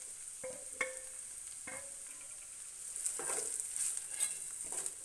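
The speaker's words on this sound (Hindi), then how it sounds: "इन सबको हमें अच्छे से सॉटे कर लेना है।" Carrots and capsicum sauté in a pan, a soft sizzle broken by spatula scrapes and a few clinks against the pan, heard close.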